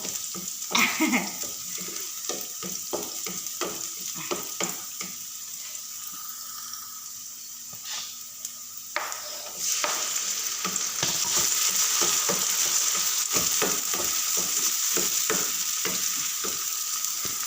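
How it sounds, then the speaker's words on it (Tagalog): Tomato, onion and chili sautéing in a pan: a steady, fairly loud sizzle with frequent clatters and scrapes from stirring, growing a little louder and denser in the second half. "Gisa-gisa ng kamatis, sibuyas, tsaka yung sili."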